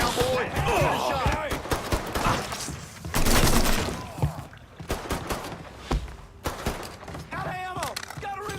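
Gunfire in the video game Mafia 3 crackles in rapid bursts and single sharp shots alongside impacts and breaking sounds, with shouting voices mixed throughout the chaotic firefight.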